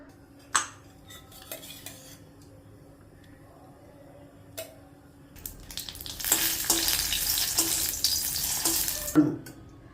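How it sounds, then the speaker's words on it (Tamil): A few light clinks of a utensil, then oil begins sizzling loudly as tomatoes are sautéed for tomato chutney, crackling steadily with occasional stirring scrapes. "இதெல்லாம் எண்ணெய் ஊற்றி நல்லா வதக்கணும்"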